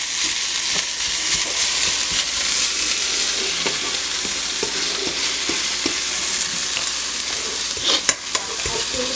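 Tilapia cut into small pieces fries in a pan with a constant bright sizzle. Repeated clicks and scrapes of stirring run through it, and one sharper clatter comes near the end. There is no talking.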